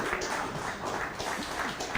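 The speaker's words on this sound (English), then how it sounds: "You could hear the reaction of the crowd." A crowd at a televised bowling competition reacts to a strike attempt, with steady applause and cheering that fills the whole moment at moderate loudness.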